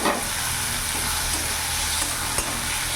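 Chopped tomato being stirred into fried onions in a hot pan, giving a steady, loud, close sizzle with scraping stir strokes throughout and no talking.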